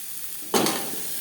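Garlic, onion, green chili and carrot tossed into a pan of fried dal for a carrot tomato chutney, with a sudden burst of sizzling that settles into a softer, steady frying hiss.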